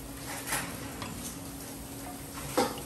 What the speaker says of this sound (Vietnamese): bánh phồng này phải lắc lắc thì nó mới phồng